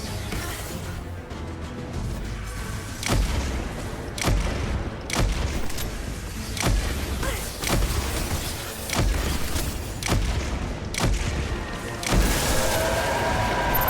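Whisper sniper rifle shots in the Shattered Throne area of a shooter video game, a series of sharp, evenly spaced booming reports roughly one per second, each with a short decaying tail.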